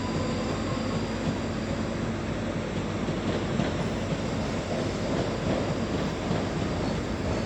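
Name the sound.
train passing, going to Helensburgh from Edinburgh Waverley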